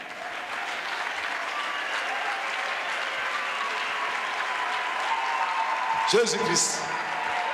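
A church congregation at a Christian crusade applauds steadily, a dense sustained roar of clapping from many hands with crowd noise, while a voice speaks briefly over it near the end.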